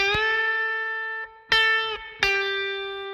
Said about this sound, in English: he'll play a note and then he'll pick it again as a pre-bent note and then release that